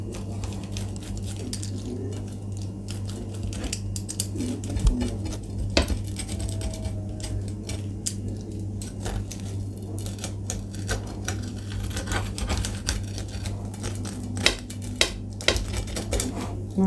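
A knife or cutter slices through homemade pizza on a metal tray, making repeated scraping crunches and metallic clicks over a low steady hum, with a few sharper clanks near the end.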